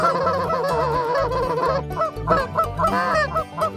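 A flock of geese honks repeatedly and loudly, overlapping calls in an uneven, busy chorus close by.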